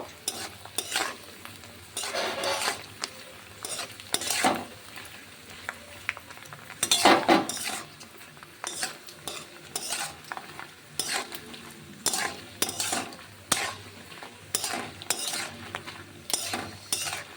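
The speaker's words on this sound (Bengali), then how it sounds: "এখন এই পাঁপড়গুলো ভেজে নিচ্ছি" Papads frying in hot oil in a pan on a cool rainy day, with steady crackling sizzle broken by repeated scraping and stirring clatters and a few louder bursts, close and alone without talk.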